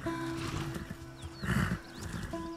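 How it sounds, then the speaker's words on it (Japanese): A zebra whinnies and snorts in the video game The Last of Us Part II, with shrill, wavering neighs and agitated breathy bursts over steady background ambience and no speech. "シマウマは凶暴ですからね。"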